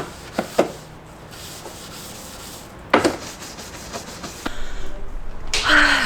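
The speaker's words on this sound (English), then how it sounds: "So I'm gonna hit it with the scrubber." A handheld scrubber rasps across a dirty roof surface, with a few sharp knocks and scraping strokes before a longer, steadier rubbing pass builds near the end.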